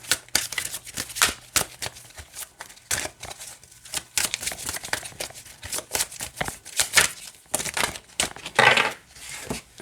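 A deck of Buddhist oracle cards is shuffled by hand, giving repeated crisp riffling and slapping bursts in an uneven rhythm, close and fairly loud, with no talking.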